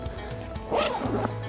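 A waxed zipper on a Coast Guard immersion suit is cycled again, making one short, close rasping pull in an otherwise quiet space.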